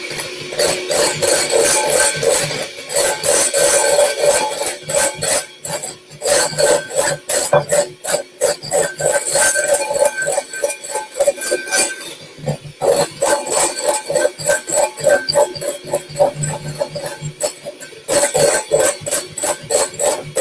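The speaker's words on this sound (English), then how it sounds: "now I'm going to whisk that in, obviously, so that it's really incorporated through my mixture" Macaron mixture whisked steadily in a bowl, a continuous loud scraping, rasping rhythm of rapid strokes running throughout with brief pauses, close and alone.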